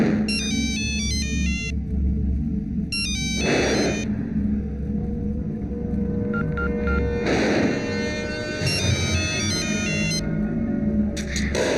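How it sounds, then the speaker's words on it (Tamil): A mobile phone ringtone plays loudly and close in a movie scene, bursts of bright repeating electronic melody alternating with low rumbling pauses, with no talk over it. "மொபைலுக்கு ரிங்கு போகுது"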